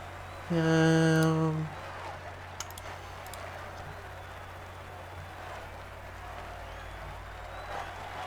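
A roadside crowd cheering and clapping in the cycling game Pro Cycling Manager 2015, a dense hissing wash of applause that starts after a loud, buzzing horn-like tone and then continues evenly.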